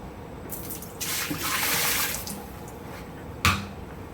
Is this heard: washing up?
yes